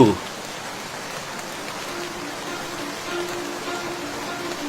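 Rain falls steadily, a dense even hiss of drops that stays constant throughout, with a brief thud at the very start.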